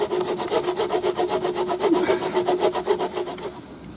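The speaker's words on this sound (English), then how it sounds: "Then I'm just going to saw along here" A hand saw cuts wood for a knife sharpening board, with quick, even back-and-forth strokes in a steady rhythm for about three and a half seconds. It is close and rasping, with no voices.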